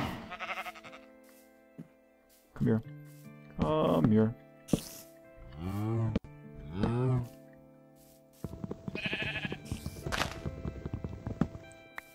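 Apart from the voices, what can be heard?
sheep bleating in Minecraft video game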